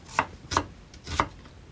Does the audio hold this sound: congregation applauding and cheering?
no